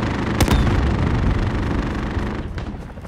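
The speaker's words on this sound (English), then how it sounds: "There's a fucking helicopter." Gunfire and explosions from a helicopter attack in Call of Duty: Modern Warfare, a dense continuous barrage with a sharp loud burst early on, sustained rumbling fire throughout and a slight fade toward the end.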